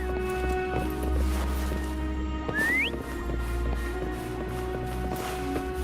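A single short rising whistle to call Foam in Wuthering Waves, heard over a steady low ambient game hum with faint rustling.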